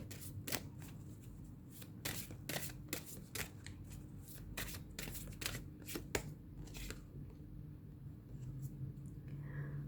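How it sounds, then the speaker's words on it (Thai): Tarot cards are shuffled and drawn for a love reading, giving a dense run of crisp riffling flicks and snaps up close, steady and fairly quiet, with soft low room hum underneath and no talking. "เดี๋ยวเราจะมาเปิดไพ่ นะคะ Godress Love นะคะ"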